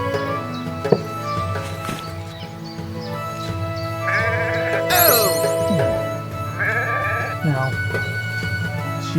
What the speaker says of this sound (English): Sheep are being cute.